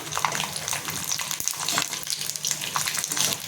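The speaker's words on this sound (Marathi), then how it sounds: "जावित्री तळून घ्यायचे आपल्याला" Mace (javitri) frying in a pan of hot oil while making goda masala, a steady close sizzle with crackling pops and occasional stirring scrapes, no voices.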